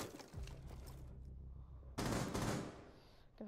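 Gunfire in the game Rainbow Six Siege on the Skyscraper map: a rapid automatic burst rattles for over a second, then a louder, harsher volley erupts near the end, with faint background noise between.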